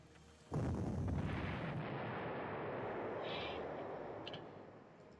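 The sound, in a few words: enemy artillery fire in Panzer Corps video game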